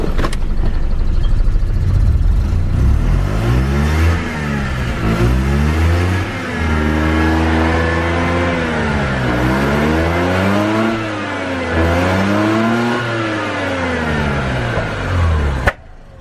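A Toyota 2JZ engine swapped into a Mazda RX-8 revs repeatedly, rising and falling in loud, close blips over a steady idle, with no talking.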